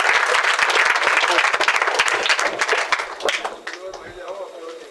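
At a gathering at Sitaram Bind Public School, a crowd gives the team loud, close applause. Thick clapping runs for about three seconds, then thins out and fades as a voice begins to speak.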